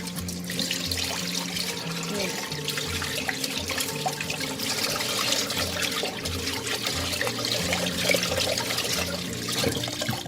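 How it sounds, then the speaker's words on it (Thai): Tap water runs steadily as fish is rinsed in a sink, splashing and trickling nearby at moderate volume for the whole stretch, with no speech and a faint low background tone. "แล้วเราก็ใส่น้ำแล้วก็ล้างเลยค่ะ"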